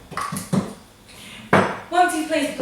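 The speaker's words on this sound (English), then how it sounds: "Once you've cut it out, place it on a tray." Cut pieces of mini pizza dough set down onto an oiled baking tray, a few close, light knocks and clatters of dough and metal tray, with a short stretch of soft talk partway through.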